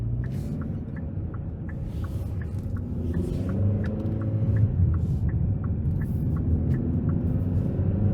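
A 2023 Hyundai Sonata N Line with its 2.5-litre turbo engine, heard from inside while driving: a steady low engine rumble and road hum that swells gradually louder, with faint regular ticking over it.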